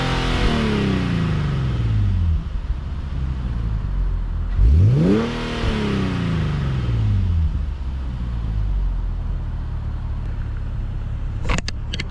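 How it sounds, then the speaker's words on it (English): A Nissan 370Z NISMO engine revs hard several times at night, pitch sweeping up and falling back, loud and close, then settles into a steady idle. "Let me see if I can get some revs for y'all."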